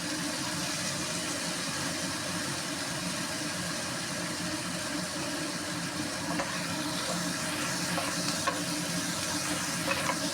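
Tofu sautéing with onions in a pan for a simple Filipino tofu dish, a steady broad sizzle that holds evenly throughout, close and continuous with no talking.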